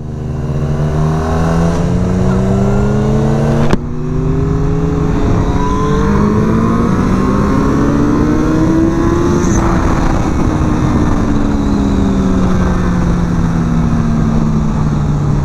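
A Suzuki GSX-R 750 motorcycle accelerates hard through the gears, its engine revving up in long rising pulls with a brief drop at a shift, loud and close.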